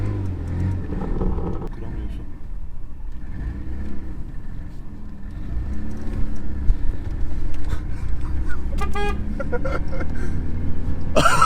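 An old, fully lowered Tofaş Doğan's engine drones steadily while driving, the car bouncing on a flat road, with a loose knocking rattle and a few sharp clatters near the end; voices talk over it.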